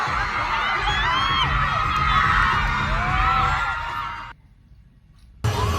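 A crowd of fans at a press conference at the Mall of Qatar in Doha gives off loud, dense chatter laced with shrill shouts and cheers. It drops away abruptly near the end, then bursts back in.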